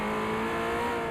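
A Mercedes race car engine drones steadily at high revs through Infineon Raceway in Forza 4, loud and close with a constant pitch and no talking.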